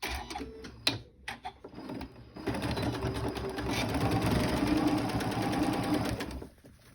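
A sewing machine stitches a lace-zipper pouch: a few light clicks and handling sounds, then a steady, close whirring run of rapid stitching for about four seconds before it stops.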